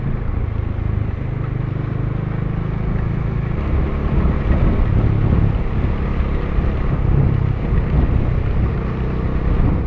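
Heavy rain and strong wind buffeting a moving motorcycle, a constant loud roar of wind and road noise with no breaks throughout.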